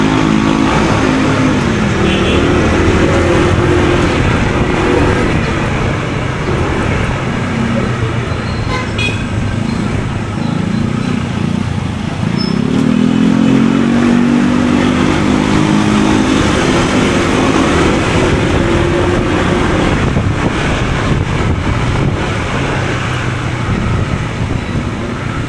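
Steady roar of a new motorcycle being broken in while riding through traffic, with constant road and engine noise and occasional horn toots from nearby vehicles.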